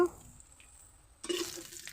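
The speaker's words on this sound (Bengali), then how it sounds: "চিংড়ি মাছ ভাজা হয়ে গেছে" Prawns frying in a pan: a quiet hiss, then a sudden louder burst of sizzling as they are stirred or lifted out with a ladle, with light scraping.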